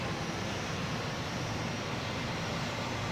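The jet engines of a C-17 transport in Microsoft Flight Simulator 2020 power up, making a steady, dense, broadband roar that stays loud and even throughout without speech.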